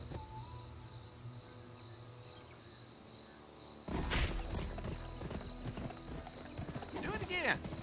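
Rhythmic clip-clop of a sprinting horse's hooves in the video game Gun starts about halfway through, loud and close, over steady ambient background with a horse whinny near the end.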